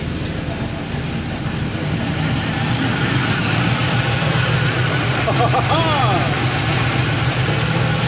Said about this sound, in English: it's idled up as it should with the AC on